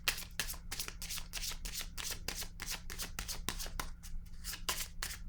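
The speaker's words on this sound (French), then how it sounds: "Ici, je vais déposer une carte." Tarot cards are handled and laid down in a rapid, even series of crisp slapping and riffling strokes, about two to three per second, close and clear over a steady low hum with no talking.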